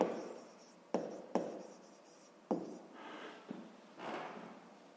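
A pen writes out a math solution in several quick bursts of scratchy strokes, with short pauses and taps between them. The sound is close and quiet, with no voices.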